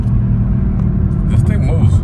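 A 2018 Kia Stinger with a Lap3 tune accelerates hard, its engine giving a loud, close, heavy low rumble that builds under excited talking inside the cabin.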